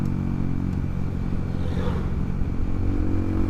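A motorcycle ridden hard at full throttle along a road at night gives a steady, loud engine drone close by, with a slight rise in pitch partway through.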